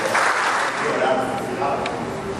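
Congregation in a church applauding, a dense steady clatter of clapping that fills the space, with voices and tonal sounds mixed in underneath.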